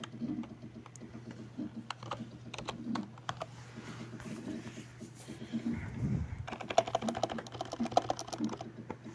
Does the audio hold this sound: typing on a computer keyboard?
yes